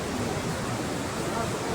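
Water rushing steadily nearby along the mountain route to Kedarnath, a dense continuous roar with no breaks, loud and close for the whole moment.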